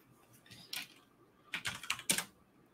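Typing on a computer keyboard, with two quick bursts of close key clicks separated by a short pause in a quiet room.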